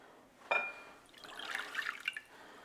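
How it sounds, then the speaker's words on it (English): Water dumped into a mixing bowl while preparing bread dough, heard as a brief splash followed by a short run of trickling and dripping, close and fairly soft. "We're going to take our water, dump it in our mixing bowl."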